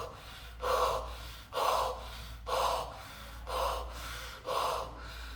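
Voice imitating rapid, deep breathing as in acidosis: five heavy, noisy breaths at an even, quick pace, each a forceful rush of air, close and alone.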